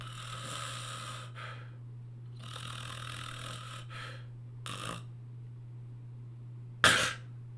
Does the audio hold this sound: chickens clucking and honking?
no